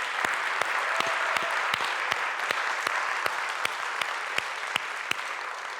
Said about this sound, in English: Let's start by giving another round of applause to the speakers and the performers who opened